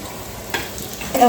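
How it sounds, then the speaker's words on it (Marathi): Semolina-coated Bombay duck fish frying in hot oil, a soft continuous sizzle close by with a couple of brief clinks or spatters, fairly quiet overall. "त्याला हे रव्यात घोळवून आपण हे आता फ्राय करत फ्राय करणार आहोत"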